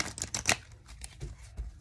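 Tarot cards shuffled by hand in a few quick riffling bursts, close and fairly quiet, with brief pauses between the flurries.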